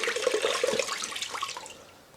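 Hot water mixed with a pine cleaner splashes and pours for floor cleaning, a continuous bright gushing with small bubbling spatters that gradually tapers off, close and moderately quiet.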